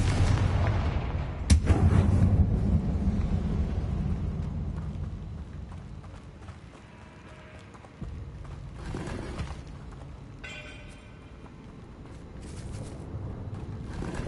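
The Confringo explosive spell in Hogwarts Legacy, a game, detonates with a sharp blast followed by rumbling low booms and crackles over a dull ambient game backdrop, with further muffled impacts later.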